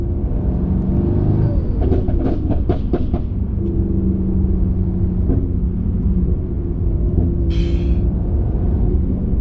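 Tuned Mercedes E63s Stage 2+ with downpipe, intake and CPC software, its V8 engine rumbling and revving with a few sharp throttle blips early on, heard up close and loud throughout.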